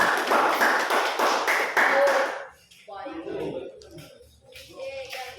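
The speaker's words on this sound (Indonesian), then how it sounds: "Tepuk tangan untuk kelompok 2, silakan kembali" A classroom group claps for group 2 after its presentation, a brisk burst of many hands lasting about two seconds, followed by quieter room sounds and faint voices.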